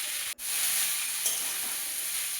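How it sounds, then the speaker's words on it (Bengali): Steamed banana flower hits hot oil tempered with panch phoron in a kadai, giving a steady, close, loud sizzle with a brief dip and a small stir scrape, no voices. "এবার কড়াই গরম করে তেল দিয়ে পাঁচফোড়ন দিল। তারপরে ভাপানো মোচাটা দিয়ে দিল।"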